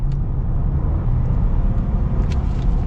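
A 2022 Ford F-150 STX pickup truck rumbles along at a steady, moderate level, with low engine and road noise heard from inside the cab and no voices.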